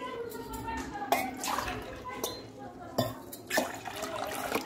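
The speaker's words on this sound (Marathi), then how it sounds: "2 ग्लास पाणी घेते।" Two glasses of water splash and pour into a metal pot, with a few clinks of the vessel and a voice speaking quietly.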